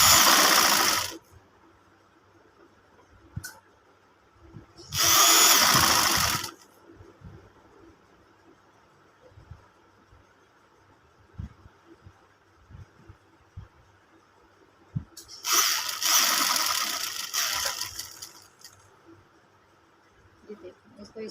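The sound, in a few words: sewing machine stitching a round neckline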